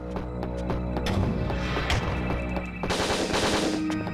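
Rapid automatic gunfire in the video game Winback, bursts of sharp repeated shots fired close and loud, broken by a brief gap before a second dense burst.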